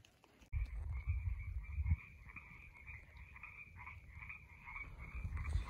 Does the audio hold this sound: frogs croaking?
yes